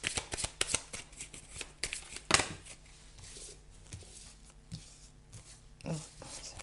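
A deck of tarot-style cards is shuffled and cut by hand in a quiet room, giving a run of sharp riffling bursts and soft slaps at irregular intervals, close and clear with no talking.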